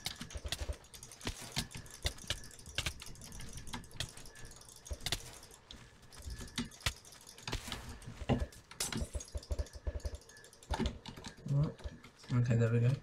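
Computer keyboard keys clicking and tapping in quick irregular bursts during a one-on-one Minecraft PvP fight, with a player talking over the typing.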